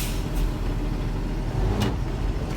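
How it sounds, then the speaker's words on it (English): A bus rolls forward after its brake is released during a pre-trip brake test, producing a steady low engine rumble that stays near and constant throughout. "We're going to release the brake. We're going to move forward"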